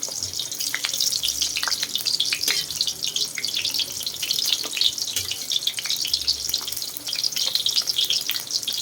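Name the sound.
pork frying in a pan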